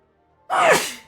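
A single sharp human sneeze bursts out after a short near-silence, loud and close, then tails off briefly.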